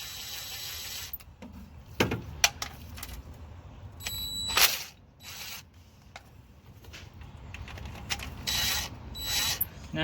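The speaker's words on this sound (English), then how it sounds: "I had to get a regular ratchet on that side" Ratchet clicks and clanks from loosening bolts while an engine comes out of a Chevy K1500 Silverado, coming as short irregular bursts of mechanical ratcheting and metal tapping, fairly close, with quiet pauses in between.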